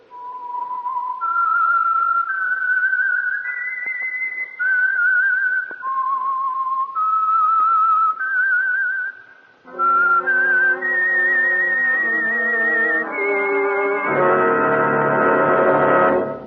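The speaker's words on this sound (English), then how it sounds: "That whistle is your signal for the Signal Oil Program, The Whistler." A whistled theme signal for The Whistler radio program plays as a clear, solo melodic line of sustained notes. A brief pause follows, and then orchestral music carries the tune into a fuller chord.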